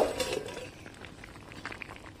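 Potato cubes and figs simmer in salted, turmeric-tinted water, giving a soft, steady bubbling with small pops and a brief clatter at the start, close and fairly quiet.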